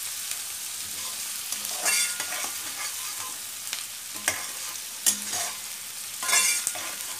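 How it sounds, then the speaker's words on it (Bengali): Sliced onion is stirred into shrimp frying in a pan, a constant sizzle with rhythmic scrapes and a few sharper knocks of the spatula, close up and with no voices. "এখন পেঁয়াজটা এর সাথে মিক্স করে দিব।"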